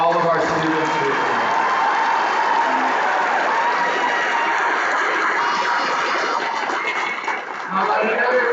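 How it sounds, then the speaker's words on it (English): A crowd at a bridge crossing ceremony applauds the students, with steady, dense clapping and some cheering that fills the room loudly and continuously for several seconds. "How about one more big round of applause for all of our students who are here."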